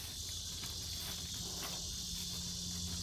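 Dense, steady high-pitched cicada buzzing fills the whole stretch in a backyard, loud and continuous with no voices, set over a low droning hum.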